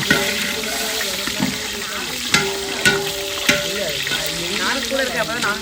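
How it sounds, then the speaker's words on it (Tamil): Pongal being stirred in a pot for a traditional wedding feast: scraping and sizzling cooking sounds with occasional knocks of the spoon against the vessel, close by, with some faint background voices. "எங்க அண்ணி தான் கிண்டிக்கிட்டு இருக்காப்பா எவ்வளவு நேரம்."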